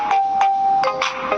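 A phone ringtone downloaded for the name Sandhya plays loud and close, a sustained melodic tone with repeated bright bursts roughly every half second, no talk.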